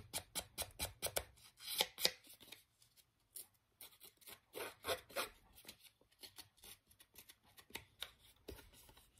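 Paper ageing tool rubbing and scraping a sheet of 200 gsm paper, quick bursts of dry close scratching strokes in irregular runs with short pauses between.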